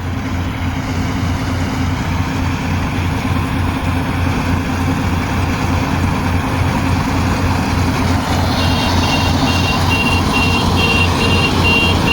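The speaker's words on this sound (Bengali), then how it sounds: "তো আপনারা দেখতে পাচ্ছেন ট্যাঙ্কি ভর্তি হয়ে গিয়েছে সিগনাল দিচ্ছে" A Yanmar AW70GV rice harvester with its grain tank full sounds a repeated signal beep, a steady series of tones that begins partway through over the loud, constant drone of the running engine.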